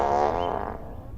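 A comedic cartoon fart sound effect, a single loud sustained tonal blast lasting about a second that starts strong and gradually fades, heard alone without any talking.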